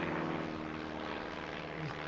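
World War I biplanes in an air show dogfight give a steady, loud propeller-engine drone with harmonic hum, holding throughout without pause.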